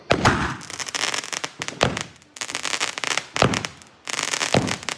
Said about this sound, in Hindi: अब चलेगी स्काई शॉट।